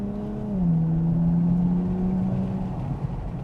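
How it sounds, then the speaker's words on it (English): Nissan Nismo Z V6 exhaust droning from inside the cabin, a steady low hum that swells briefly, holds an even pitch for a couple of seconds and then fades under road noise. "Not much of an induction sound, just really just sound of the exhaust."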